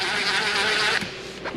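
A power tool gun runs steadily, removing a 10 mm bolt from a 2024 GV70 steering column unit. It gives a loud, continuous whirring whine for about a second, then drops off into quieter bursts.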